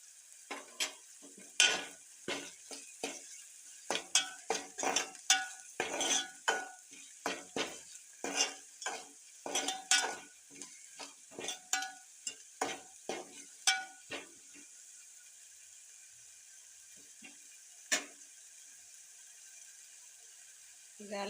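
Potato palya fries in a pan and gets stirred, a spoon scraping and clattering in irregular strokes over a soft sizzle, busy at first and then thinning to a few isolated taps.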